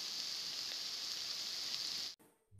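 Sliced onions and green chillies sautéing in three tablespoons of hot oil in a pan give a steady, even sizzling hiss that stops abruptly near the end.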